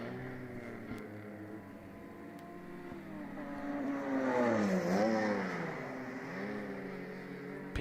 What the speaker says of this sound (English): Nice to hear those race car engines as they come by.